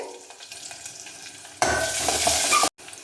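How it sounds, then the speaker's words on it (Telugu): Chopped onions in a pan: soft stirring scrapes, then a loud, close burst of hissing sizzle for about a second that cuts off abruptly. "ఈ ఆనియన్స్ మనకు దోరగా వేగా వేగాల్సిన అవసరం లేదండి కొంచెం పచ్చివాసన పోయే వరకు వేయించేసుకుంటే సరిపోతుంది"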